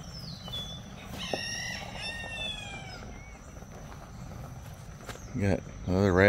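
Chickens and a rooster at Montauk State Park, with a few clucks and a drawn-out crow, moderately near amid outdoor ambience, and voices rising at the end.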